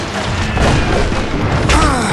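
Heavy gunfire roars in the Wild West shooter Call of Juarez Gunslinger, with dense, booming shots and rumbling blasts packed tightly together at close range.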